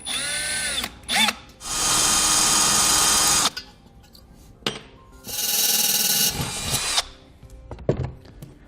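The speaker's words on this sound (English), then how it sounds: "now we'll drill the holes" A power drill with a 1/8 inch bit whirs in two sustained bursts of a few seconds each, drilling holes during installation of a tire inflation kit on a 2014 Ford F-53, separated by short clatters and handling knocks, loud and close.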